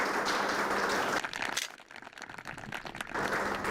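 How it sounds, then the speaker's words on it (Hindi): An audience at a farmers' quiz program applauds the winner, a dense burst of clapping that drops to scattered, thinner hand claps midway before swelling again, fairly faint overall. "एक बार फिर से जोरदार तालियां बजाएं"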